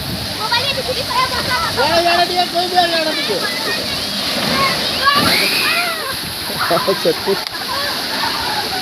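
Water splashing and pouring at a water park, a continuous rushing spray under excited voices and shouts from people playing nearby.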